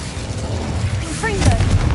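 A fire spell cast in the Hogwarts Legacy video game: a burst of low rumbling booms with a rising whoosh midway, building and sustained over two seconds amid dense game noise.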